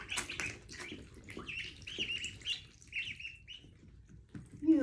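Ducklings kept in a room give a string of thin, high peeps and chirps close by, moderately loud and irregularly spaced, ending with a sudden louder squeaky burst.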